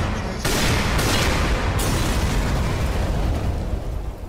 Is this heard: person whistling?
no